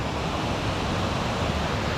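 Water rushing down a mountain stream near a bridge in a forest on Illimsan in Boseong, South Korea, a steady, dense broadband wash with no breaks, fairly loud and close, alone.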